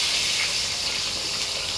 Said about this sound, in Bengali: তেল গরম হয়ে গেছে, এখন আলুগুলো ভেজে নিব।